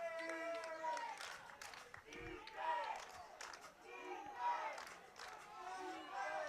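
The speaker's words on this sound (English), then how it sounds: "Crowd riled up in support of the Eagles here with that defensive chant." A football crowd at a Mill City Eagles game chants in support of its defense, a steady sustained roar of many voices with rhythmic swells, heard from within the stands beneath a commentator's voice.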